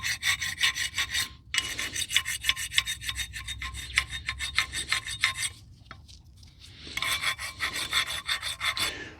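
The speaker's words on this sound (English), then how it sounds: "We'll go back with the file on that." Metal file rasping rust off a steering part on a Craftsman GT5000 riding mower, close and steady, in rhythmic back-and-forth strokes with short pauses between runs.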